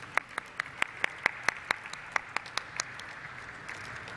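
Scattered hand claps from a small audience at the listing ceremony for Aadhar Housing Finance Limited, about a dozen sharp, distinct claps in a loose, quick rhythm over a faint room hush, tapering off toward the end.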